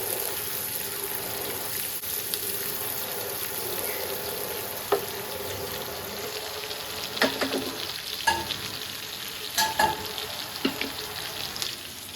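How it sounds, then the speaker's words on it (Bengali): Poya fish frying in oil in a home kitchen, a soft continuous sizzle at close range broken by occasional sharp pops and utensil clinks. "এখন পোয়া মাছ ভাজতেছি"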